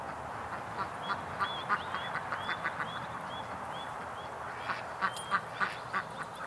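Limping duck quacking in a series of short, fairly faint calls, a cluster early on and a few more near the end, over a soft outdoor background with no talking.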